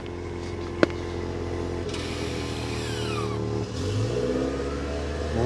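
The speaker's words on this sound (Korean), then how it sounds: "시에나 하이브리드의 순정 배기음 스포츠 모드 켜야 됩니다." A Toyota Sienna Hybrid minivan in sport mode runs on its stock exhaust, a close, fairly quiet engine hum that rises as it accelerates, with a sharp click near the start and no talking.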